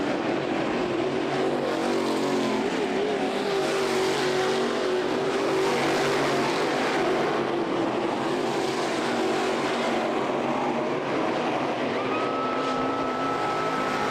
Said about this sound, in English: White flag in the air, 1 lap to go for Keith Osbish.